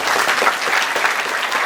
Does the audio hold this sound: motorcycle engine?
no